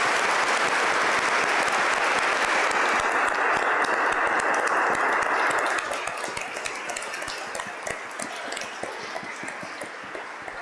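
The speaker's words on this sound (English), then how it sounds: "let us acknowledge Susan and Dan with a round of applause" Congregation applauding Susan and Dan at a church diaconate ordination service, a full, dense round of clapping that holds steady for several seconds, then thins and softens toward the end.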